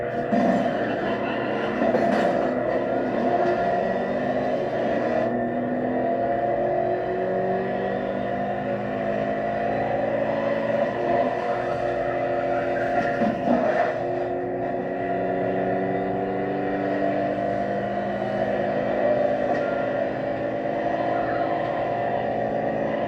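NASCAR race cars in the racing video game The Crew Motorfest: a loud, sustained engine drone that rises and falls in pitch as the cars accelerate and shift, continuous throughout.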